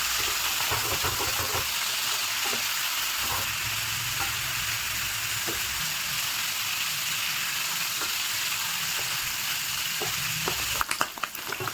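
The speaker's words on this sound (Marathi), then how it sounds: "याच्यामध्ये आता आपण पनीर ॲड करूया. पनीरला चांगलं फ्राय करून घेऊ आपण." Paneer cubes frying in hot oil give off a steady, close sizzle with faint stirring clinks throughout, and a few sharper crackles come near the end.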